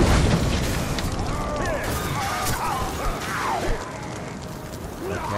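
Dense, chaotic action in the video game Shadow of War with booming explosions and crashes layered over music and effects, loud and continuous throughout.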